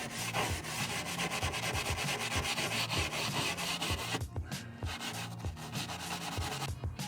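Vigorous, loud wire-brush scrubbing of rust, steady rapid scraping strokes with brief pauses near the end.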